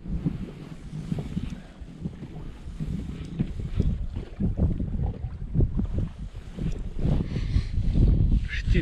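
Gusty wind rushes and thumps against the microphone in uneven surges while pike fishing, growing stronger toward the end, with no talking.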